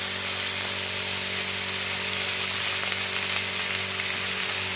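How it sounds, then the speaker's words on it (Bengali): Carrots frying in mustard oil for chowmein give a steady, dense sizzling hiss throughout, close and fairly loud, with a faint low hum underneath and no speech. "এই গাজরগুলো একটু ভেজে নিব"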